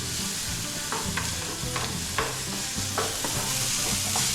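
Food sizzles steadily in a hot pan while being stirred, with repeated scraping strokes close by and no talking.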